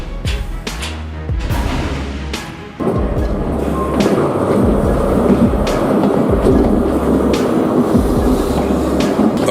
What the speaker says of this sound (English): A train derailment at the Vancouver Riverside parking lot on Sunday morning.